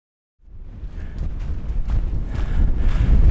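Wind blowing at a hiking campsite, a steady, loud roar that buffets the microphone and builds over a few seconds, with no voices.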